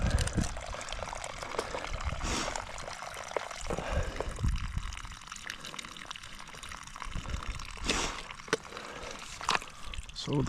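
Water pours steadily into a domestic water well, a continuous rushing trickle that runs unbroken for the whole stretch, with faint knocks and handling noises over it.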